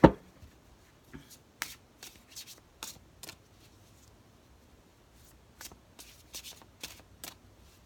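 Tarot cards being shuffled during a card reading, with soft, quiet riffles and flicks in scattered short bursts separated by near silence.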